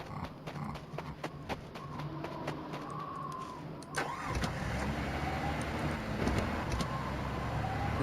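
An engine turns over and starts in the game Voices of the Void, heard as a sudden burst around the middle that settles into a steady, fairly loud rumble after quieter ambient clicks.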